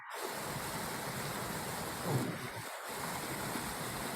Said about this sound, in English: it's one of our little waterfalls here